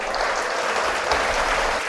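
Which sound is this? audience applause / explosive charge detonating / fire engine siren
audience applause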